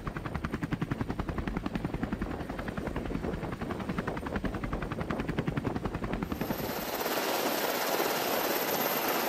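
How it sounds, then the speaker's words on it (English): CH-53 helicopters landing on the deck of an amphibious LPD ship at sea: loud, close rotor thumping in a steady fast rhythm with turbine whine, shifting to a broad rushing roar of rotor wash near the end. "CH-53 helicopters gracefully descend onto the deck of the LPD."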